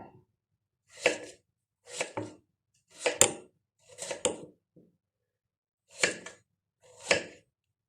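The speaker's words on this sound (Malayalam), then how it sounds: "സവാള അരിഞ്ഞെടുക്കാം" Knife chopping an onion on a board, seven separate sharp cuts spaced about a second apart, close and clear against near silence.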